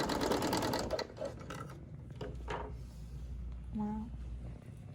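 A Bernina L850 serger overlocker running and stitching on a table, a steady mechanical whir with rapid rhythmic clatter, close up, with voices talking over it at times.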